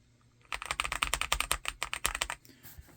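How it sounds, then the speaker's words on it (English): Rapid clicky keystrokes on a custom keyboard build fitted with artisan keycaps, a steady run of close, crisp taps with no voices, trailing off at the end. "And they sound good while doing it."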